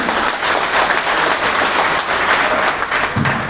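A large crowd at a political panchayat gathering in Hasanpur, India applauds loudly and steadily, a dense wash of clapping that holds at full strength from start to finish.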